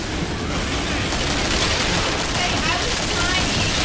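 Dense video game gunfire in a close-quarters hallway fight, a continuous loud rattle of shots filling the whole stretch with no pauses.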